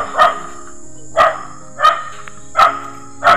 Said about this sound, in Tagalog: may aso pa pala dito